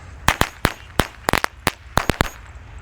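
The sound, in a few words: pack of lighter firecrackers (mercon korek) going off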